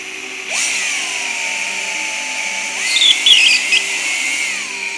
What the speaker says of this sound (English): So you could see in here the tap slipping within the chuck of the drill